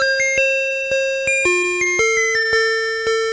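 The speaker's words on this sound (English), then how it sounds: "here's what South Korea's school bell sounds like." South Korean school bell playing a clear electronic chime melody, a series of evenly spaced bright tones stepping up and down in pitch, loud and alone with no voices.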